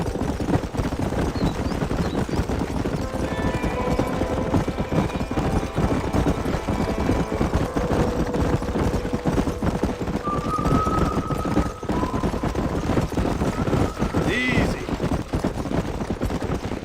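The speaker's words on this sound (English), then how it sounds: "There's the horses!" Horses gallop in Red Dead Redemption, a fast clip-clop of hooves running continuously under loud game sound, with a whinny-like cry briefly rising near the end.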